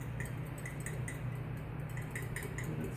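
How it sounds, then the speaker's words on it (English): A corn syrup and large-grain salt mixture is stirred in a pot, faint regular clinks of a utensil against the pot ticking over a quiet hum. "so give it a good stir"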